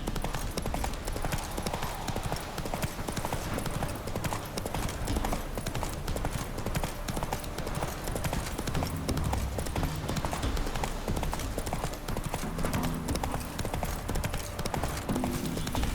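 Hooves of a horse named Roach clip-clopping steadily in the video game The Witcher 3: Wild Hunt, a continuous close trotting rhythm over ambient game sound for the whole stretch.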